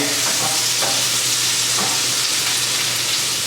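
Brussels sprouts and onions fry in butter with a steady, loud sizzle, while a utensil stirs them through the pan in a few scraping strokes.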